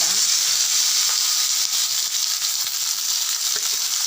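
Sliced onions and curry leaves fry in hot oil in a kadai, giving a loud, steady sizzle and crackle that runs through the whole stretch with no talking.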